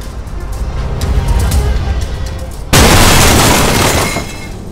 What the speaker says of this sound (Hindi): यह प्लेन एक रिहायशी इलाके में जोरदार धमाके के साथ गिरता है।